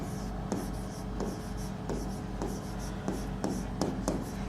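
Notes being written on a board for a class lesson on cells, a run of rhythmic scratching and tapping strokes that repeat about twice a second, close and clear over a quiet background.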